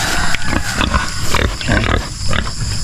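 Free-range pigs, including pregnant sows, grunting and snorting close by on a farm, several short rough bursts in a row, with a little background noise.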